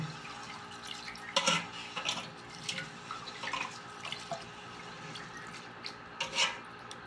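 Wet sloshing and rubbing of rice being rinsed by hand in water, with soft drips and irregular swishes close up, no voices.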